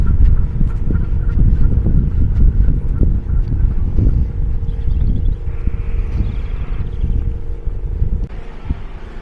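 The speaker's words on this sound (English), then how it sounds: "with these geese and these roadworks, it is quite noisy this morning" Geese honking near a lake on a noisy seaside morning, mixed with roadworks machinery and traffic; the calls come as repeated short honks against a dense, loud, continuous background rumble.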